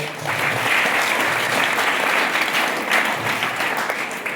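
An audience at a school memorial event claps together in sustained, dense applause for several seconds, fairly loud and close, with no talking.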